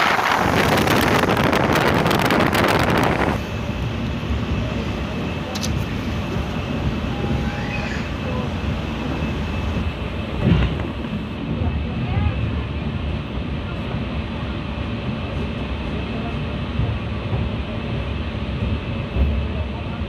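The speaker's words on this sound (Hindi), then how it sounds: "ट्रेन हमारी पहुंच चुकी है गंगापुर सिटी रेलवे स्टेशन" The Kota Patna Express, an Indian passenger train, running in the evening, with a loud wind-buffeted rush at the start, then a steady rumbling of the rails, a faint tone and occasional knocks throughout.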